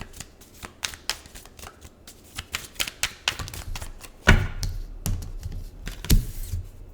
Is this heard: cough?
no